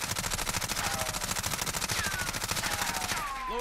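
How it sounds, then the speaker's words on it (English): Suppressed MP5SD submachine gun fired in full auto in Call of Duty Modern Warfare, a fast continuous burst of rapid muffled shots with brass-like clinks, loud and close throughout. "So now let's fire again, and this time I'll control the recoil."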